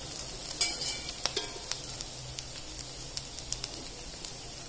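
Aloo tikki potato patties frying in a shallow layer of oil, a soft continuous sizzle with scattered crackles and pops, close and fairly quiet, with no talking.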